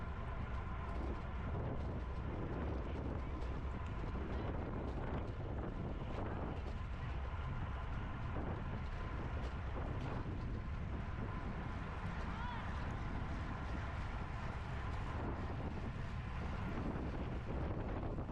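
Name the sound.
wind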